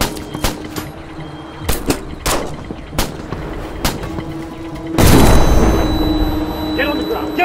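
Loud flashbang grenade blast bursting in after several sharp shots and impacts during a police tactical raid in a live-action short film, with a sustained roaring wash after the bang and voices around it.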